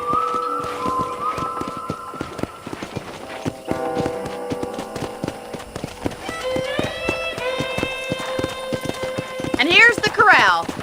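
Horse hooves clip-clop steadily at a ranch corral in Red Dead Redemption, a near, rhythmic trot under background music and talking voices, with a whinny near the end.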